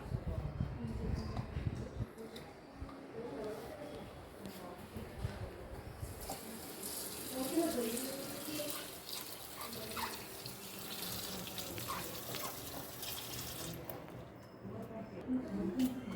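Okra being washed under a running kitchen tap, a soft steady stream of water splashing into a sink, faint and close with intermittent handling noises, while someone talks over it.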